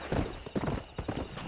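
A horse gallops in Red Dead Redemption, its hooves pounding close and loud in a quick, uneven rhythm across a short burst, with no talk.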